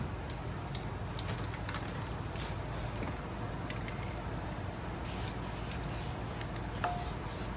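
An aerosol can of Rust-Oleum appliance epoxy enamel hisses in a steady continuous spray on a wheel, close by, with faint clicks and rustles mixed in.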